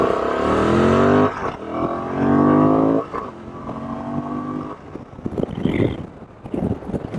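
A Honda Transalp motorcycle on a fire road revs loudly and close, its engine rising in long climbing sweeps, then settling into rougher, choppier throttle blips with wind buffeting the microphone.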